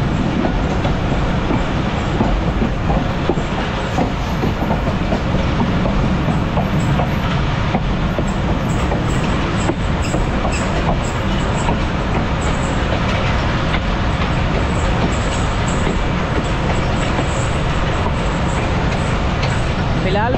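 The Hazara Express passenger train runs steadily toward Rawalpindi railway station in Pakistan, a loud, continuous rumble and rattle of carriages heard from on board, dense and unbroken for the whole stretch.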